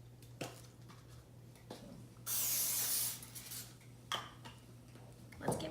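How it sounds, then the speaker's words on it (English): Cooking spray hisses onto a baking pan for banana bread in one steady burst of under a second, loud and close, between a few light taps and clicks in a quiet kitchen. "we have to spray the pan."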